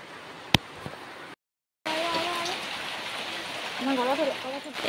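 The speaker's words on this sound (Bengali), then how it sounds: "এই বৃষ্টি বন্ধুরা আজকে আর কমবে না" Heavy rain pours down as a dense, steady hiss close at hand, broken by a short moment of silence, with a voice speaking faintly over the downpour near the end.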